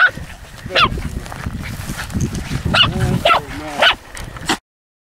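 Hunting dogs bark in repeated bursts near a downed water buck, several close, loud yelps and woofs spaced irregularly over steady outdoor noise.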